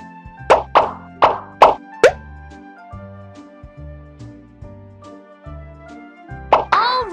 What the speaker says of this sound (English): Now tap all the bubbles to pop them.